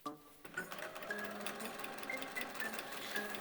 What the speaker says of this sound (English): so far I've actually managed to sew everything right side to right side the way it's supposed to be